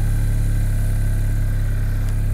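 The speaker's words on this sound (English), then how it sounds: "Very quiet engine, especially when it's idling." Steady, close idle from the 700cc engine of a 2016 Arctic Cat Pantera 3000 snowmobile, an even low hum with no talking.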